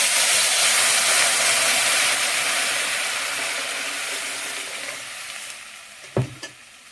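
Water poured into a pan of frying potato and taro curry sets off a loud, steady hissing sizzle that slowly fades, followed near the end by a couple of sharp knocks from a utensil, with no voices.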